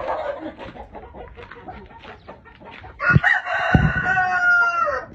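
A Thai-American breeding rooster of about 3 kg clucks in low, choppy bursts, then lets out a loud, close, drawn-out crow.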